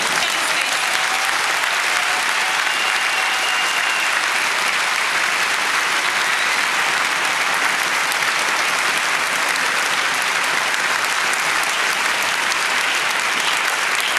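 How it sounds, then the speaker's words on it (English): Warm, sustained applause from an audience at a Peace Day sponsors event, a dense steady wash of clapping that carries on alone for the whole stretch. "Warm applause."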